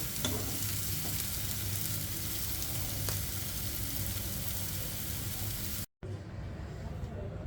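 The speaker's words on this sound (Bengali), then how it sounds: "এখন আরেকটু ভেজে নিব সবগুলো।" Ash gourd slices frying in a pan, a loud continuous sizzle with stirring that cuts off abruptly near the end and returns quieter.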